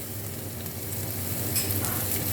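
Cucumber, carrot and onion sizzle steadily in a hot pan on the stove, a dense continuous frying hiss with a slight rise partway through, close and loud with no talking.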